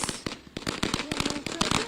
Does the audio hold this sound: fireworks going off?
yes